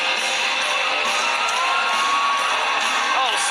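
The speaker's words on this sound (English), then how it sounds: "Oh, sweet clapping, man." Large WWE Raw arena crowd cheers and whoops in a dense, steady roar for a Hardy Boys tag team match, with sustained crowd noise filling the whole stretch and faint shouts rising above it.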